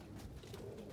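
Pigeons or doves cooing softly in an individual mating pen, a low, steady murmur of coos with no talking.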